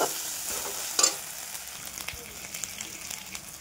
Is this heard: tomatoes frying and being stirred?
yes